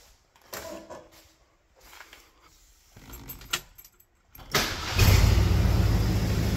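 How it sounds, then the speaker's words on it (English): A classic car engine cranks with a few brief starter bursts and clicks, then catches and settles into a loud, steady idle close by, with no talk over it. "Starts really nice now"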